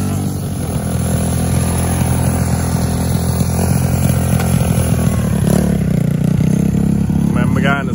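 An Apollo 125cc two-stroke motorcycle engine runs loud and close in a continuous buzzing drone, with slight revving swells. People talk over it throughout.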